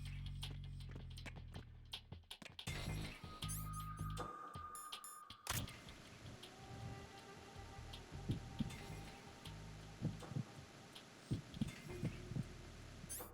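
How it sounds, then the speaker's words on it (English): Several heartbeats picked up by a listening device in a video game, soft irregular thumps layered together under game ambience, quiet and somewhat muffled, with a sharp tone and shift midway. "this does sound different, but I'm not sure if that's just because I'm picking up multiple people's heartbeats"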